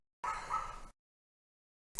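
A single dog bark, a short yelping burst lasting under a second, stands alone against near silence, followed by a brief clipped sound at the very end.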